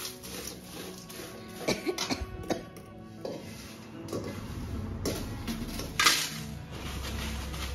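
Sun-dried spices crackling and popping in a very hot oiled pan while roasting, a busy run of close, sharp crackles with occasional louder pops over a steady sizzle.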